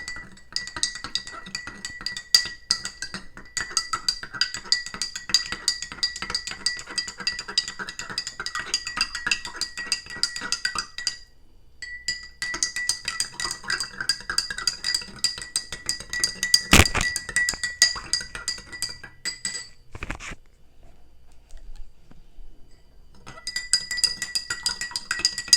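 A spoon clinks quickly and repeatedly against a glass while stirring an MSM solution, in three long bursts of bright rhythmic tinkling separated by short pauses, with one sharper knock partway through.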